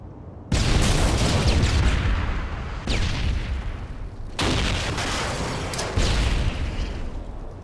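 A grenade blast among gunfire in an online search-and-destroy match on an Afghan map: sudden loud booming bursts that decay into rumbling echoes, one after another, with no talking.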